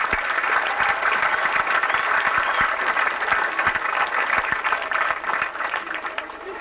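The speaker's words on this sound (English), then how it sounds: "I think he deserves a round of applause from this community" Crowd applause for a man at the opening of the 1983 Lifford Festival, a loud, dense wash of many hands that holds steady and then begins to thin and fade near the end.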